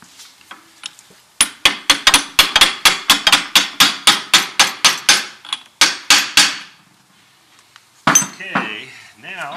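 Hammer taps driving a part into a transmission during a rebuild: a quick run of about twenty sharp metallic strikes at a steady rhythm, close and loud, followed by a pause and then a brief rustle.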